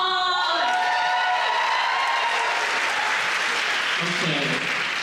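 An audience at a cultural showcase night breaks into loud, sustained applause mixed with cheering and whoops, a dense crowd roar that holds steady throughout.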